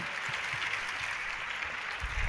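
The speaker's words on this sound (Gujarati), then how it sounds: "જોરદાર તાલીઓના માધ્યમથી આ પ્રસંગને વધાવીએ." An audience at a Gurupurnima festival at Tirthdham Sardhar claps as a continuous, fairly faint wash of crowd applause with a few louder bursts near the end and no clear talk.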